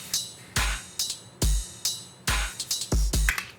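A dubstep drum loop of kick, clap and hi-hat top loop samples plays alone, punchy low kicks alternating with sharp claps in a steady, loud rhythmic pattern.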